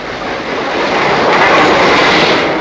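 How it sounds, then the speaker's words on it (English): The North Briton express rolls into York station, a broad, steady rumble of the approaching train that swells and holds loud and close, with no voices. "There's the North Briton coming in now."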